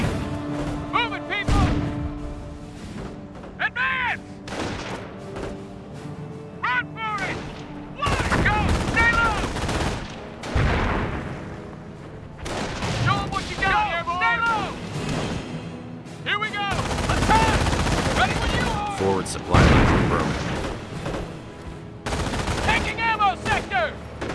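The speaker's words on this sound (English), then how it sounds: "Airborne taking fire!" Battle gunfire from Company of Heroes, a World War II strategy game, on a final bridge-holding mission: dense bursts of rifle and machine-gun fire with distant booms, overlaid by shouted soldier voice lines.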